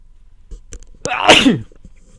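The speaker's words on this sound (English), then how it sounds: "I'm going to sneeze." A single loud, close sneeze bursts out after a couple of short breaths.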